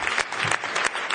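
Conference attendees applaud the organising teams at a closing session, a brief, dense patter of many hands clapping steadily from a room-sized crowd.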